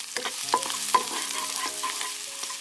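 Chopped garlic fries in three spoonfuls of hot sunflower oil, a steady bright sizzle close up, with a few light stirring knocks scattered through.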